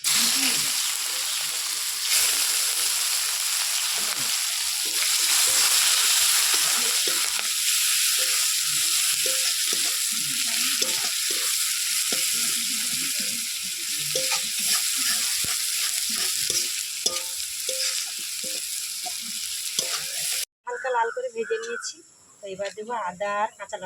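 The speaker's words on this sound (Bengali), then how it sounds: "ফোড়ন ভাজা হয়ে গেছে এবার দেবো পেঁয়াজ কুচি" Chopped onion fries in hot oil over a cumin and bay leaf tempering for a fish curry, a loud, steady sizzle with stirring scrapes, then cut off as a voice starts speaking.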